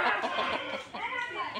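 A chicken, offered as a prized gift bird with an eagle-like beak, clucks continuously and close by in a short, busy run of throaty calls with no one talking over it.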